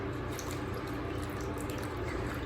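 A steady wash of running water splashes continuously over a mesh stencil being rinsed, close and fairly loud with no pauses and no voices.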